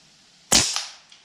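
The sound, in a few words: gunshots at a shooting session, rifle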